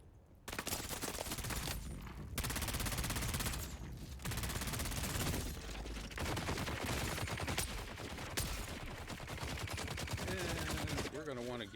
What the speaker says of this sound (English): Why are you not firing at me? Ooh, that's a big gun.